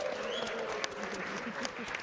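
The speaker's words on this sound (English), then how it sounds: "give yourselves a round of applause" Audience of around 250 at a classroom AI event applauding themselves, a short, even burst of clapping with a few sharper claps, heard close in a hall.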